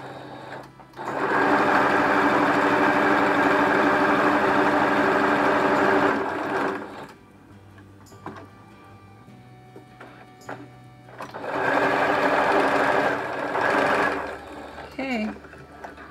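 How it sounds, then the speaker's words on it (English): A sewing machine whirs in two bursts of rapid stitching, separated by a quiet pause with brief handling noises. "I'm just going to go over it with the sewing machine just to close it"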